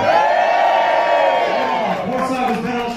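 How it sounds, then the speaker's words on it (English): Cheering passengers on the port side of the QM2 during an equator-crossing celebration on deck, a sustained crowd shout of many voices that fades slightly toward the end. "Everyone from the middle to the port side, give me a nice big cheer"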